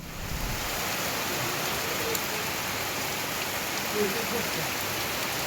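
Steady, dense rain pouring down, a constant heavy hiss of drops hitting surfaces that stays even throughout.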